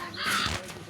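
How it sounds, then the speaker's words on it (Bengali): Crows caw in a brief, fairly loud burst that peaks midway, heard alone without talk. "হ্যাঁ কাকগুলোকে তাড়াতে হবে।"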